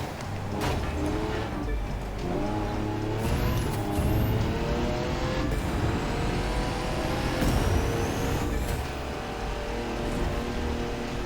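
Race car in The Crew 2 accelerating on nitrous during a United States East summit event, a continuous loud engine roar rising in pitch through gear changes over game background noise.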